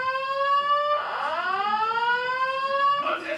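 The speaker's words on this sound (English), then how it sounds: "Attention, fire alarm has been activated." Building fire alarm tone sounds loudly and steadily with a pitch glide, in a county committee meeting room, with no spoken announcement heard during it.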